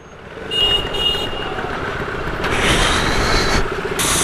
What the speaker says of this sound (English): So much of traffic.